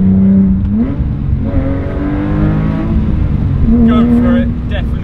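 A Porsche 997.2 GT3 with a manual gearbox revving hard on the move, the engine note rising and falling through gear changes with a throaty growl, loud and close, while someone talks over it.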